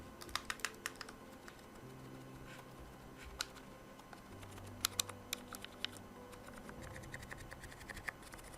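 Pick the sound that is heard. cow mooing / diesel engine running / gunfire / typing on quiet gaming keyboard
typing on quiet gaming keyboard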